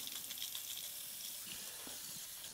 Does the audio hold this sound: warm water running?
yes